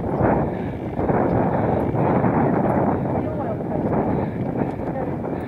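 Breezy wind at a campsite roars steadily across the microphone, a dense constant rush with slight swells in strength that holds for the whole stretch.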